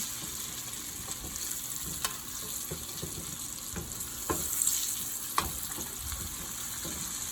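Tilapia fillets frying in hot oil, freshly flipped for Jamaican escovitch fish, give a steady close sizzle with scattered sharp crackles and pops throughout, and no talking.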